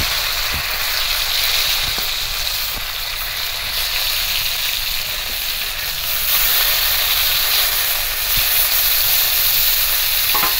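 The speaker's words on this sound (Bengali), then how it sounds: "মাছগুলোর এক পিঠ ভাজা হয়ে গেছে, অপর পিঠগুলো উল্টে এরকম একটু লাল করেই ভাজবো।" Sea fish fry in hot oil with a steady, close, loud hiss and sizzle lasting throughout, broken by a few faint ticks and pops, with no talk.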